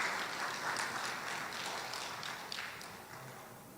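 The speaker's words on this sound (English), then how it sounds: "Can we give him a round of applause as he joins us?" An audience applauds as a panelist joins at the Ghana Economic Forum, a faint, distant, steady patter of clapping that fades slightly toward the end.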